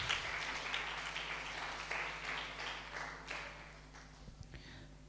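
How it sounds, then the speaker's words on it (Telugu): A church congregation claps together in praise, a soft, fairly distant patter of many hands that gradually thins and fades out toward the end. "సిద్ధంగా ఉన్నవారు ఒకసారి చప్పట్లు కొడుతూ దేవుని మహిమపరుద్దాం"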